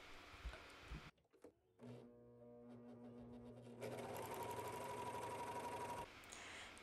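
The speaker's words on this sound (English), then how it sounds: "We are going to sew a seam right there, turning it into a circle." After a few soft handling bumps and a brief pause, a sewing machine starts up and stitches a neckband seam into a circle, a close whirring run that speeds up midway and holds steady before stopping near the end.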